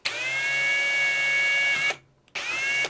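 A power drill drills through wood, whining steadily, stopping briefly, then starting again, loud and close.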